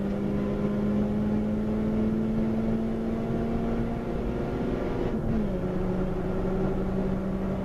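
A Nissan Sentra SSS race car held at full throttle down a straight during a 2K Cup race, a loud steady engine drone heard from inside, pitch holding level before a quick dip and settle.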